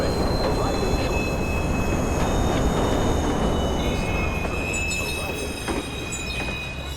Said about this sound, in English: Westbound train arriving shortly.